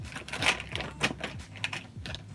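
Plastic art markers, a pile of about 42, being shuffled around by hand, giving a series of light clacking, rattling knocks in irregular bursts, close and fairly quiet with no talking.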